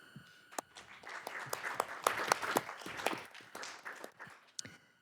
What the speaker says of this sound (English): Can we give our D51 family a round of applause to thank them for everything they do?